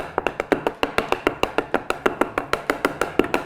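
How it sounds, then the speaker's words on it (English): Cake pans filled with batter for a beehive birthday cake are tapped against a kitchen counter, making about twenty sharp, evenly spaced knocks in a quick steady rhythm. The knocks are close and fairly loud, with no talking. "You can give it a little jiggle or tap it on your counter."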